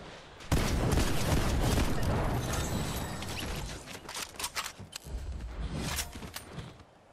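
Video game gunfire crackles in rapid bursts and single cracks with mechanical clatter, loud and dense throughout the short stretch, without anyone talking over it.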